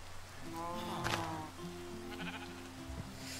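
Minecraft sheep give several clear bleats in quick succession, close and loud, with other farm-animal sounds from the game around them.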